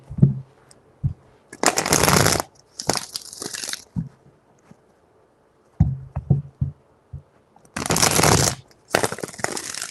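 Tarot cards shuffled by hand at a reading, in several separate bursts of riffling and tapping with quiet pauses between them, close and fairly loud, with no talking.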